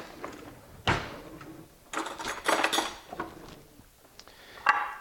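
Spoon and dishes handled at a stove after broiling fish fajita meat and charred veggies, giving a few scattered clinks and knocks with one sharp clatter near the start, moderately close and fairly quiet, with no talk.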